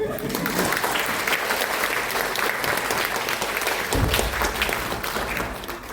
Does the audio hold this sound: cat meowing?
no